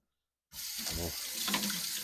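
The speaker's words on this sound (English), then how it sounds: "One more rinse on this celery" Kitchen tap water pours steadily after a sudden start while celery is rinsed under it, a close, continuous splashing rush with no talking.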